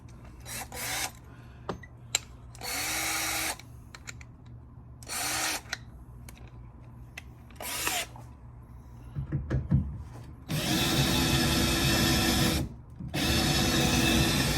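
A power drill whines in repeated bursts, stopping and starting, with a louder, harsher grinding stretch near the end as it bites into hard metal.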